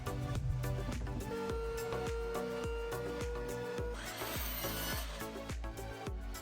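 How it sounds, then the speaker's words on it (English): A saw cuts through 2x4 lumber boards, with quick, even back-and-forth strokes repeating steadily at a fairly low level over a faint tonal background. "Here I'm cutting the 2x4s to glue together for the legs"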